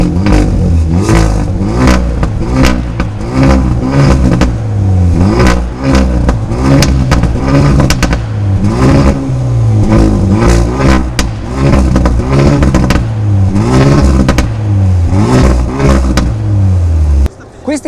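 Hyundai i30 N sports hatchback engine revving repeatedly and loudly up close, a steady series of rising and falling revs with crackles between them, filling the whole stretch without speech.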